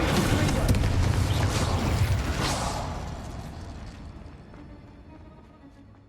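The Incendio fire spell from Hogwarts Legacy goes off as a loud, broad whooshing roar with a rumbling low end, swelling at first and then slowly fading over several seconds.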